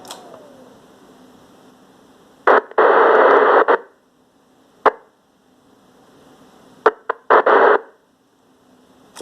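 Amateur radio receiver hiss with two loud bursts of a weak, static-filled transmission, separated by quieter noise and a few sharp clicks.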